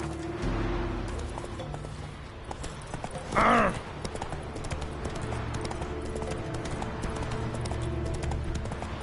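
Hooves of Roach, a horse in The Witcher 3, clip-clopping at a steady walking rhythm close by, with a brief louder whinny or snort partway through over low ambient background.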